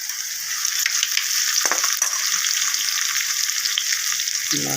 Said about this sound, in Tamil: வெங்காயம் வதங்கிட்டு குழம்புக்கு தேவையான அளவு